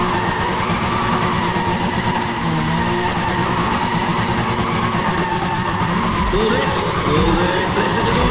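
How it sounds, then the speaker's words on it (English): Roaring race car engines in Need for Speed ProStreet on the Autobahnring track, with tire skids and squeals, loud and continuous throughout, with a voice faintly underneath. "Listen to those engines, we're ready"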